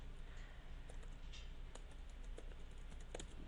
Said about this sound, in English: as usual, to type out your words.